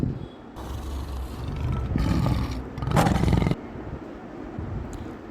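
A tiger lets out a deep roar in a few surging bursts, building to a loud harsh peak near the middle before breaking off, followed by quieter background noise.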